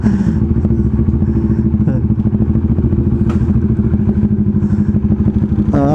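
A Kawasaki Ninja 400 motorcycle engine drones loudly and continuously while riding, a rough, rumbling exhaust close up with clattering and thumps, and faint voices beneath.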